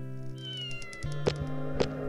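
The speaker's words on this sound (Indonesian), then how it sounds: "Ini ada kucing." A cat meows in the Tencent video game Komari Life, with short, clear meows over soft sustained game music tones and faint clicks.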